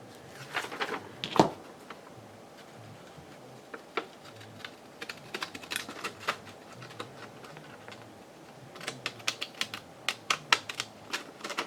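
Scissors cut through a paper sewing pattern, giving scattered, close snips and clicks in uneven bursts with quiet gaps between them.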